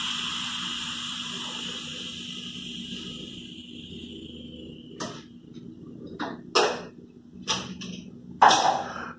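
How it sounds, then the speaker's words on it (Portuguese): A pressure cooker on a stove, with pork shoulder cooked for 35 minutes, vents steam in a long loud hiss that fades out, followed by several short sharp bursts of release. "agora eu vou tirar a pressão dela."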